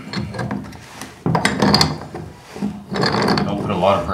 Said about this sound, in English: the large set of channel locks will grip the top of it, and then just loosen it up